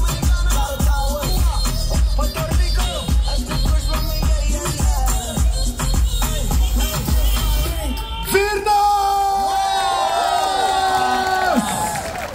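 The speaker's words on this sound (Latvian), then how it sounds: "Viņš ir to pelnījis jūsu aplausus!" An audience cheers and applauds, with loud whoops and shouts rising over rhythmic clapping, then high excited voices calling out toward the end.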